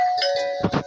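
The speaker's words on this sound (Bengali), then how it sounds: "কলিং বেল বাজিয়ে দিলাম" A doorbell rings once, a bright electronic ding-dong tone held briefly and close, followed by a short burst of indistinct sound at the end.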